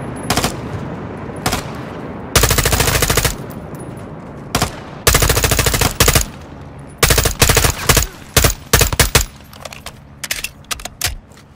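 Loud, close machine-gun fire in Call of Duty Modern Warfare 2's Cartel Protection campaign mission, coming in repeated long and short rapid bursts separated by brief pauses and scattered single shots.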